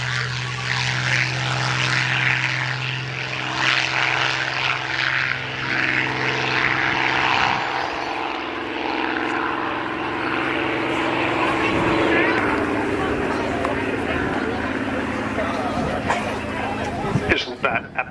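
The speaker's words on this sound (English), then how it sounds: "The lovely growl of a Merlin engine as the throttles come back and the maximum power just drains off a little and the note of the engine drops." Spitfire Mk XI with a Merlin engine flying at an air show, a loud droning propeller growl that sweeps and shifts pitch as it passes, with crowd babble and an announcer's voice beneath.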